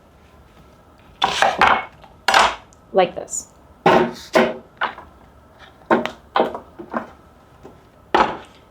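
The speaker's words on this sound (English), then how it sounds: "I'm just going to cut the root off and give this a very rough chop" A knife roughly chops an onion on a board, a dozen or so irregular sharp thuds close by, with a few brief spoken words.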